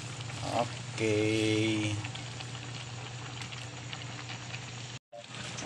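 Saluyot leaves sizzling in a pan with mushrooms and sitaw, a steady loud crackling fry that continues throughout, with a brief word spoken near the start.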